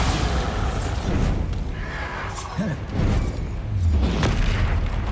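Bombarda blasting spell detonating in Hogwarts Legacy combat, heavy booming explosions with rumbling low-end bursts and debris crackle, loud and close, with game music and effects layered underneath.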